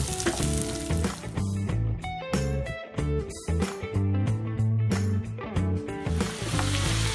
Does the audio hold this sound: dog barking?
no